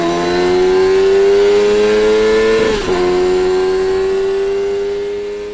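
A loud, high-pitched Suzuki 750cc sport motorcycle engine holds a steady whine, dipping briefly midway before settling again, close and continuous at high revs.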